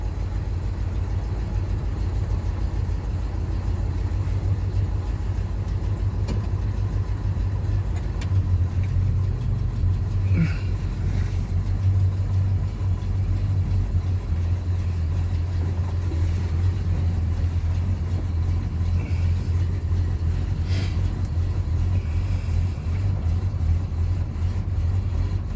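A carbureted engine in a 1981 Chevrolet C20 truck idles with a steady low rumble that holds unbroken throughout, with no talk. The choke is faulty and tends to load up.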